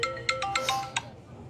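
A phone ringtone plays a quick series of bright electronic tones, close and clear, ending after about a second.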